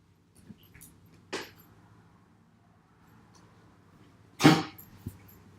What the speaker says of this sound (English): I think she gets hair stuck in her mouth from licking herself, and then she starts, like, gagging.